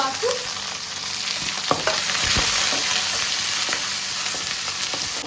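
Chillies, onion and curry leaves fry in oil in a pan, making a loud, continuous close sizzle with occasional stirring scrapes and light taps throughout.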